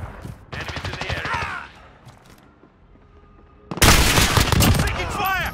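Gunfire in Call of Duty: Modern Warfare multiplayer, dense bursts of shots in two loud clusters with a quieter gap between, mixed with battle chatter and game voice callouts.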